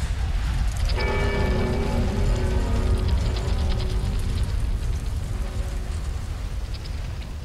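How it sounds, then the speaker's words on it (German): Heavy rain hisses steadily over a low stormy rumble in Dark Souls 3 at Archdragon Peak, with a ringing bell-like tone swelling in and fading beneath it. "Das ist ein ganz schön heftiger Sturm."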